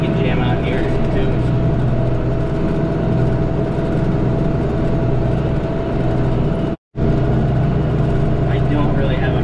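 A tractor engine runs steadily during dirt work at a grain bin site, a loud continuous low rumble heard from the cab, with talk over it and a brief cutout near the end.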